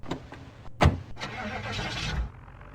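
A car engine in the Project Zomboid video game starts with a sharp click and crank, then settles into a steady mid-level run before fading.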